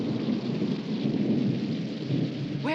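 A night thunderstorm pours heavy, steady rain while deep thunder rumbles continuously underneath, dense and loud throughout with no voices.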